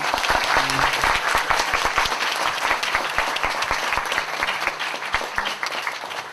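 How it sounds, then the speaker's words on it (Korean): An audience claps in thanks after a history lecture, a dense, steady burst of applause that stays loud and even throughout, with no talking over it. "그 선생님 다시 한번 감사의 박수 한번 쳐드리고요"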